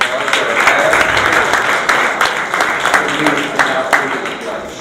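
A seated audience at a talk on zero-net-energy homes gives a steady round of applause, loud and continuous with individual sharp claps standing out, while a voice speaks over the clapping.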